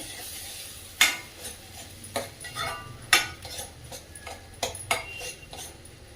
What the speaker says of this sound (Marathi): आता कांदा परततोय